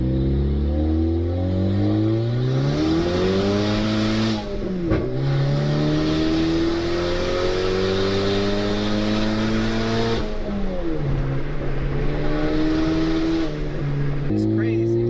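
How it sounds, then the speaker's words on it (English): A turbocharged Honda Civic with an R18 engine accelerates hard, its loud engine note climbing steeply in pitch through several gears with brief dips at each shift, close and continuous from start to end. "Never in a million years I thought I'd have an R18 Civic Turbo hauling ass like this and making all these noises."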